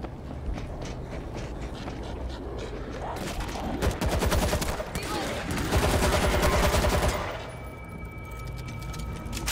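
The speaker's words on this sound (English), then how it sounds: "got an auto turret" Rapid mechanical bursts from an auto turret in World War Z during a zombie stadium attack, a dense rattling fusillade that builds and peaks midway before fading to a quieter hum.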